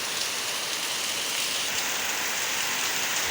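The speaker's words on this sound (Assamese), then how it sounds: "বৰষুণৰ চাউণ্ড শুনিব পাৰিছে নিশ্চয় কিমান জোৰকৈ বৰষুণ আহিছে" Heavy rain pours down during a windy storm, making a dense, even hiss that fills the air. The sound stays constant and alone, with no voices over it.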